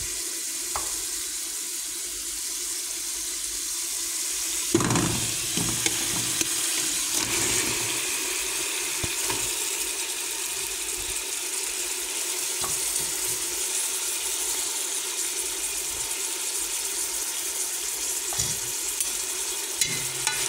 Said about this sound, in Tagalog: Ilagay na po natin yung pusit.